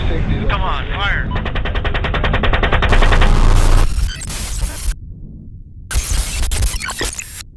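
Automatic gunfire rattles in rapid, dense bursts inside a dramatized internet-themed scene, loud and continuous at first, then breaking into scattered cracks and heavier blasts mixed with other noise and a voice.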